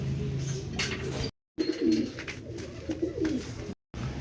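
Racing pigeons arriving at a loft after a 130–140 km race, with repeated soft close cooing throughout, broken by two brief silent gaps, while faint voices and rustling sit underneath.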